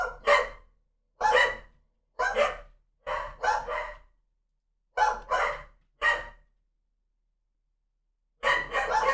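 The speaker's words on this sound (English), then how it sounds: "All right, my dogs aren't stopping." Several dogs barking in separate bursts, roughly seven loud, close barks spaced over a few seconds, then a pause before a final bark, with no talking.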